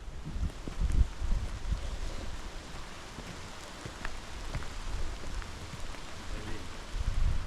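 Rain patters steadily with scattered drops and occasional gusts of wind buffeting the microphone, outdoors with no talking.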